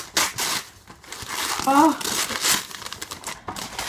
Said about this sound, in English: Let's open it. Just gonna unwrap it.